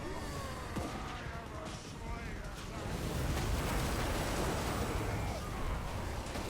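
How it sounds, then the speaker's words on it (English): Hell Cannon shells burst across a Total War Warhammer 3 battlefield as a dense, continuous roar of distant explosions and battle noise, swelling louder midway, with a commentator's voice running over it. "While the Hell Cannon rounds pour in."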